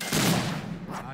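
A single gunshot in the video game Fable 3: one short, loud burst that decays quickly, heard up close.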